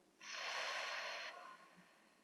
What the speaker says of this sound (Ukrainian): І видих, свічку задуємо.